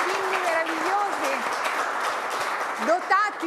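An audience on an Italian television show applauds the children of a youth football school. The clapping is a steady wash of sound that runs throughout, and a voice rises over it near the end.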